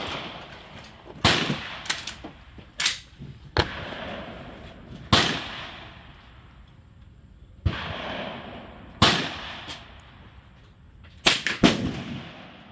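A .22LR rifle fires about nine sharp single shots at an outdoor range, spaced irregularly with a couple of quick pairs, each crack followed by a brief decaying echo.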